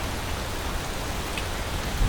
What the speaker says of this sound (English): Just in time for all of this rain.